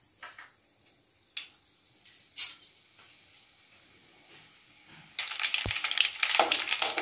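Mustard seeds and urad dal frying in hot sesame oil. A few faint ticks come first, then a loud, steady crackling and popping sizzle bursts in and carries on close by until the end.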